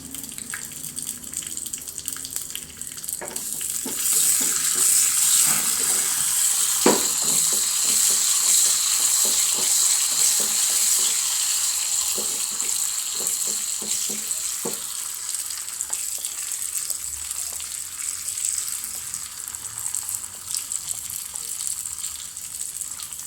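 Cashews and raisins frying together in a pan for parippu payasam give a steady, close sizzle and crackle that swells after a few seconds and continues without any talk.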